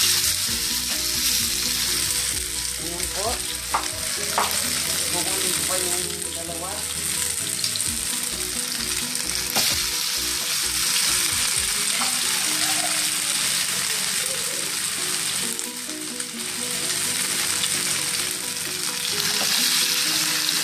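Fish embutido fries in a pan with a loud, continuous sizzle and crackle. Faint clatter and stirring sounds rise through the steady hiss.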